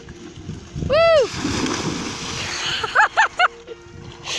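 A person rides a bike into water and falls in with a loud splash, followed by sloshing water, while voices shout and whoop nearby, including a sharp cry at the start and a few loud exclamations at the end.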